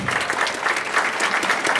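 Steady applause from an audience at a school brigade and student council oath ceremony, dense clapping filling the whole stretch with no pause.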